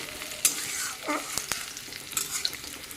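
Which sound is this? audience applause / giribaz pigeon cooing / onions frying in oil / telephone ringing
onions frying in oil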